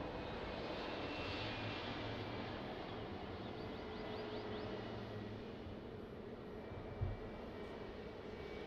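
An American 787 airliner on final approach at Lisbon Airport makes a faint, distant, steady roar that holds throughout, with a brief soft knock near the end and no voices.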